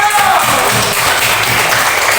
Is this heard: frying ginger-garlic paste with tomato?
no